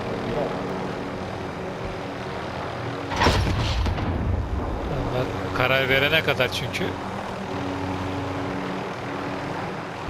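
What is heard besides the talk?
helicopter flying in video game Call of Duty Warzone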